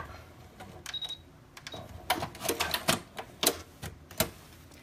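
A sewing machine running a straight stitch on fabric for a reading pillow, with a rapid mechanical clatter in short runs and stops, close and moderately loud, with no talk.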